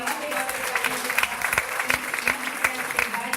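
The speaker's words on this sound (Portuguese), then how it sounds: "Uma salva de palmas para essa pessoa maravilhosa" Audience applause at a businesswomen's and professionals' association event, a dense, steady wash of many hands clapping that fills the whole stretch at moderate loudness.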